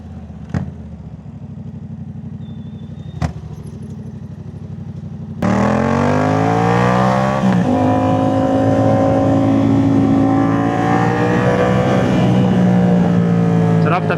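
A Yamaha MT-07 motorcycle fitted with a Jeskap full exhaust idles with a low, steady burble, then its engine is revved hard with a sudden loud roar, rising and falling in pitch through repeated throttle blips close to the microphone.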